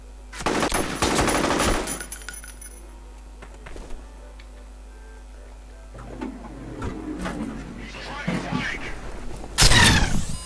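Gunfire in the first-person shooter F.E.A.R., a loud rapid burst of automatic fire at the start, scattered single shots, then another sharp burst at the end, with quieter game sounds in between.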